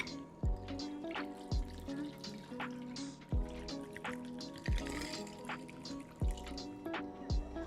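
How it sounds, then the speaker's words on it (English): A drink is poured over ice in a glass, giving repeated sloshing pours and filling sounds with clinking ice and drips, moderately close, with faint background activity. "You can pop your cap off, and then I need some ice in here. Okay, are you ready to pour?"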